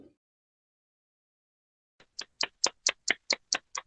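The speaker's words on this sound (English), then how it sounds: "Is that a clap?" After a long silence, one audience member at a live chat claps about nine times, with the claps evenly spaced, crisp, close and alone.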